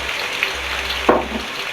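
Soft sizzling from chicken frying in a pan, a steady low crackle with a brief louder spatter partway through.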